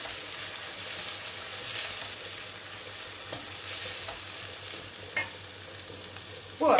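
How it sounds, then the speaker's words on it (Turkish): Continuous sizzling of vegetables frying in a pan, with a few faint scrapes and clicks of stirring. "Bir iki kere karıştıracağım onu."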